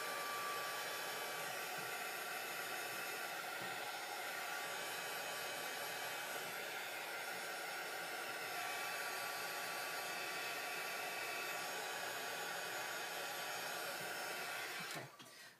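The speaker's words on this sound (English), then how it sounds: "So sorry for the noise of the dryer." A hair dryer blows steadily nearby, a loud continuous whooshing hum that runs unbroken before clicking off at the very end.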